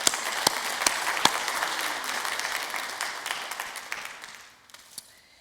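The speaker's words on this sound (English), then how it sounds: "Give yourselves a round of applause." Audience applause at a Salisbury Wicomico Arts Council benefit event, a dense continuous round of clapping from a crowd that gradually thins and fades toward the end.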